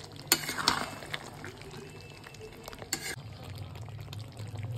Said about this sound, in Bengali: ধনেপাতা দিয়ে দেবো, তারপর একটু নাড়িয়ে নেবো